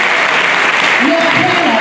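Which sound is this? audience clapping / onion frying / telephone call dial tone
audience clapping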